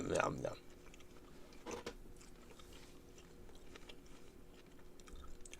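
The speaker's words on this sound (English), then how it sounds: "You guys get to listen to me chew." A person chews meat close to the mic, eaten by hand without a knife, with soft wet biting and mastication sounds and a brief burst of talk at the start.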